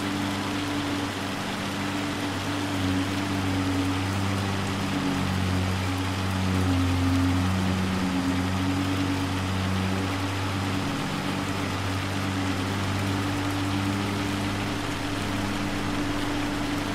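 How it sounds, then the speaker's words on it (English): Hail patters steadily on the cab of a moving tractor in a May shower, a dense, even hiss over the low, constant drone of the engine running underneath. "I love how we're having a hail shower in May."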